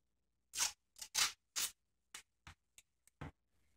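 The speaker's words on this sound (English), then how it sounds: "Let me try one more piece of masking tape." Masking tape being cut or torn by hand, close up, in a quick series of about nine short, crisp rips. The first few are longer and the last ones shorter, with silence between them.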